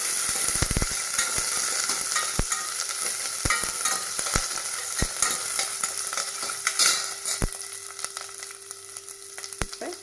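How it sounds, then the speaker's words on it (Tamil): Onions sauté in a pan for a drumstick-leaf stir-fry. A steady broadband sizzle runs throughout, with sharp utensil clicks and scrapes from stirring at irregular intervals. No one speaks. "வெங்காயம் நல்லா வணங்கிருக்கு"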